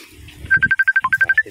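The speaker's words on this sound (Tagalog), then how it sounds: "Kaso nag-ring yung cellphone natin kanina." A cellphone rings with a quick run of about a dozen bright, evenly spaced electronic beeps, loud and close, over faint outdoor background noise.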